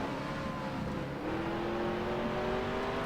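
A NASCAR Cup race car in NASCAR Racing 2003 on the Daytona road course, its engine droning steadily and climbing in pitch as it winds up high before a downshift, loud and continuous with no talk.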